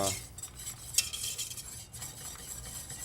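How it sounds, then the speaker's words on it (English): A whisk beats a roux in a pot, fairly quiet rapid metallic scraping and clinking with one sharper tap, close and unbroken, no voices. "whisk it. Make sure there's no lumps in there."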